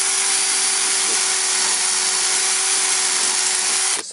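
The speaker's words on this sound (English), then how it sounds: "I am drilling in here" A power drill runs continuously at high speed while drilling a hole in a car part during a windshield wiper motor repair, loud and close, stopping just before the end.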